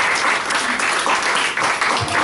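Congregation clapping in a church thanksgiving service, dense sustained applause filling the space from start to end with no talk over it.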